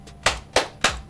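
One man claps for himself, four sharp, evenly spaced hand claps ringing close and loud in a quiet room, with no talk over them.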